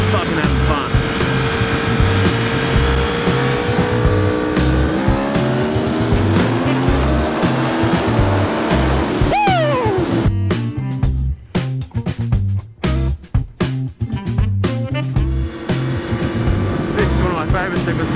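An Aprilia Tuono V4 ridden hard on a twisting Queensland mountain road, its engine roaring and climbing through gears with sharp downshift pops and crackles midway, loud and close, with heavy wind rush.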